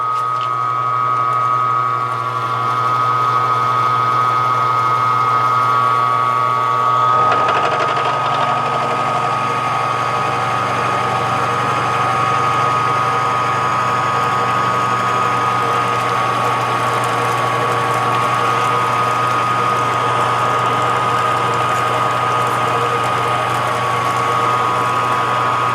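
A milling machine cutting a five-cylinder radial engine crankshaft, a steady loud mechanical whine and ratcheting chatter that steps up sharply as the cutter engages and then grinds on continuously.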